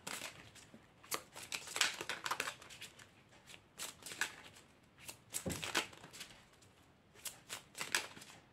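Tarot cards being shuffled and drawn during a reading, a series of quick papery riffles and snaps in irregular bursts, close and fairly quiet, with no talking.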